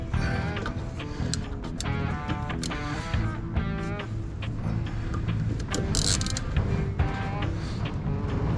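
Socket wrench ratcheting on a bolt under a Ford Ranger, repeated close clicking runs over steady background noise.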